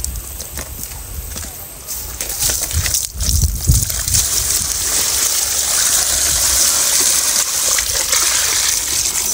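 Water gushes and splashes steadily outdoors, drawn for washing freshly harvested sweet potatoes, a loud continuous rush with some clattering bumps partway through.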